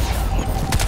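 Gunfire in the video game Crysis 2, a quick burst of loud, close shots that crack through in under a second with no voices.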